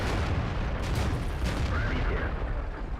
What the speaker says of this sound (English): Taking a shot in the rear from an ally there.